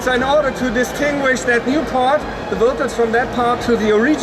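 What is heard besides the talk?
No distinct noise like a dog, phone or traffic.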